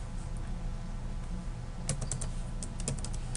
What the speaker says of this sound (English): we're going to go ahead and type in my password again